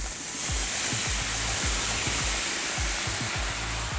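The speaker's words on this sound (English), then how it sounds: "And we're gonna pour it right over the chicken" Teriyaki sauce poured into a hot pan over sous vide chicken thighs, bursting into a loud, continuous sizzle and hiss, with soft clinks and scrapes of utensils on the pan throughout.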